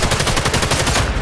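Rapid gunfire in the video game Sniper Elite 5, a dense loud burst of repeated shots rather than a single rifle crack, continuing through the whole moment without talk.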